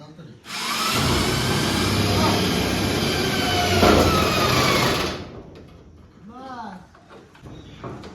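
A power tool driving screws during home construction work in a village, a loud continuous whirring drone lasting several seconds up close, then stopping before a few quieter sounds follow.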